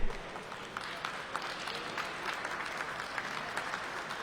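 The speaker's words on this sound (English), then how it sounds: "Now that's the first time I've gotten a round of applause for doing absolutely nothing." Steady, moderately quiet applause from an audience at a Schoenstein organ dedication recital, a dense patter of many hands lasting several seconds with no voices on top.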